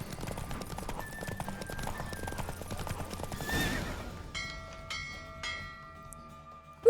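A horse's hooves clip-clop at a gallop in The Witcher 3 video game, joined by a whinny, then gives way to chiming game sounds and bell-like tones, all fairly quiet.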